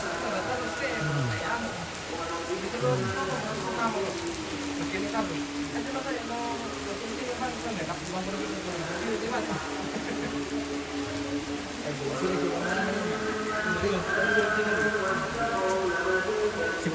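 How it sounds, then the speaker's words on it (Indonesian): Steady rain falls outside a mosque in Tana Toraja during a gathering to break the fast, a constant hiss running beneath voices and an intoning, chant-like voice throughout. "Hujan terus."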